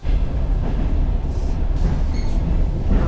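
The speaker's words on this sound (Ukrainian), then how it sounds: "Електричка. Сіли в електричку, все." Interior rumble of an electric commuter train in Ukraine, a steady loud low-frequency drone with faint rattles and a brief high squeal near the middle, no voices.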